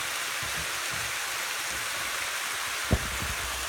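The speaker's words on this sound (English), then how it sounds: "I wash my hands." Tap water running steadily for hand washing, a close, even hiss of spray with a single faint knock near the end.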